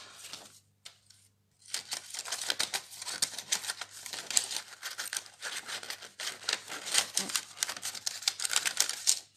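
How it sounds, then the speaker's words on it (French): A leaf-shaped paper punch cutting through vellum paper while a card is being made, heard as a brief pause followed by a dense run of close, crisp clicking and crunching that lasts several seconds. "Dans du papier velin avec la perforatrice feuillage, je vais venir couper, perforer 2 feuilles."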